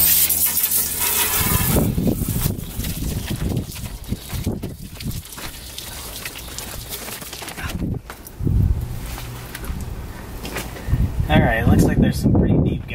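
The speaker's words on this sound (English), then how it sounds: "sorry for the wind noise, it's pretty windy today." Gusty outdoor wind buffets the microphone with a steady, loud low rumble throughout while someone polishes a scratched aluminum bumper.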